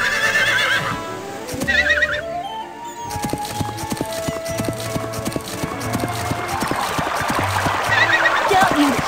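A horse in the Barbie Riding Club video game whinnies and trots through sand, its steady clip-clop hoofbeats running under light game music and occasional speech.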